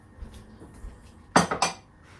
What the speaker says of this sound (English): Here's my butter dish. I'll put it over here.